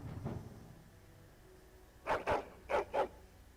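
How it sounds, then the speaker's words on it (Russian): Panicked dog in the Dragon Age: Origins video game, a quiet lone bark followed by four sharp, evenly spaced barks close up, with no one talking. "Собака на панике."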